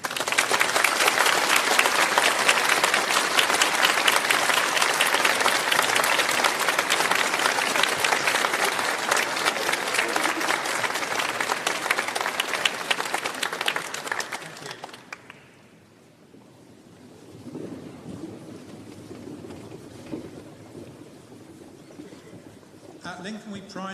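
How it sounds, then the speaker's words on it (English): Graduation ceremony audience at the University of Lincoln gives a sustained, loud round of applause for about fifteen seconds, then the clapping fades away and quieter room noise and murmuring remain. "can you please give them a round of applause to thank them for their support?"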